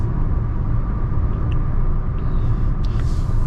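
Inside a Hyundai Venue with a 1.0 turbo petrol engine and manual gearbox, heard accelerating on a highway toward 90 km/h: a steady low engine rumble blends with road and wind noise.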